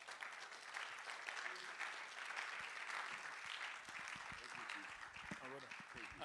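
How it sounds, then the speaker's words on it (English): An audience at the Digital Asset Summit Africa conference applauds steadily throughout, with a speaker's voice rising over the clapping in the final seconds. "Oh, please, another round of applause."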